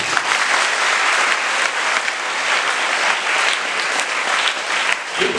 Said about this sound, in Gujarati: બધા વિદ્યાર્થીઓને હું તો વિનંતી કરીશ કે તાળીઓ પાડી અને એમને અભિનંદન આપો